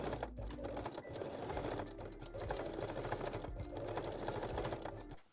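A sewing machine runs steadily as it stitches the elastic edges of lingerie panties, with a continuous buzzing motor and brief pauses between bursts.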